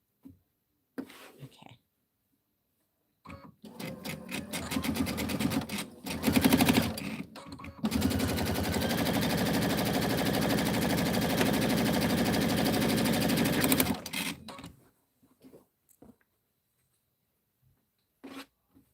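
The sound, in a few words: sewing machine stitching fabric for a pillow back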